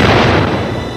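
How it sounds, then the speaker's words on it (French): Explosion sound effect from a 1985 ninja film, a single loud, dense burst of noise that is already at full force at the start and fades only slightly over a second, heard alone. "Explosion."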